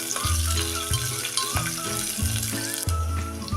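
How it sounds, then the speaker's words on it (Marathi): Ivy gourd (tondli) sautés in a pan, a close, continuous sizzle with rhythmic scraping and clanking strokes of a spatula repeating about every half second, no voices. "तोंडली अशी चांगली परतून घ्या"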